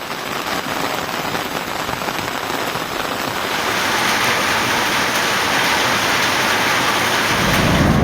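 Heavy night rain in the Thiruthuraipoondi area of Tiruvarur district, Tamil Nadu: a loud, dense, unbroken roar of downpour that builds slightly toward the end, with no voices.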